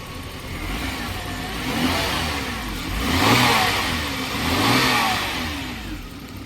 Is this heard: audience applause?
no